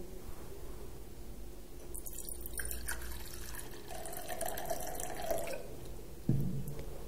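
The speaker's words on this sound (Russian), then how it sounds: "Отмерим мензуркой 100 мл холодной воды." Cold water is poured into a measuring cylinder in a school physics lab, a quiet trickling and dripping pour running for several seconds with a soft clunk near the end.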